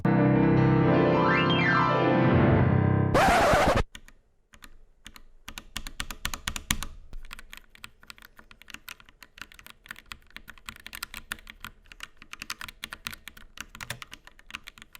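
Rapid, irregular clicking of typing on a Roccat Vulcan TKL Pro keyboard with optical switches, loud and close, following a few seconds of unrelated tonal music.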